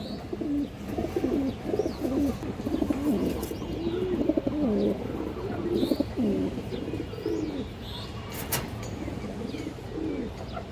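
Fancy pigeons of the Golla and Bagha breeds coo steadily in a loft, a dense overlapping chorus of low rolling calls with occasional higher chirps and brief wing flutters, no talk.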